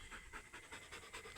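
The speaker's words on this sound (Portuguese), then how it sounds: "Isso não é uma raposa, viu, gente? Isso é um cachorro." A dog pants rapidly and rhythmically on a trail run, quick breaths repeating at a steady pace, close by and fairly soft, with no speech over it.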